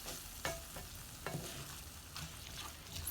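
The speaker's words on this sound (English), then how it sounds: "And then it cooks in this corn and this bacon." Corn and bacon fry in a pan, a constant close crackling sizzle with a few soft scrapes and clicks of stirring over it, steady and unbroken for a few seconds.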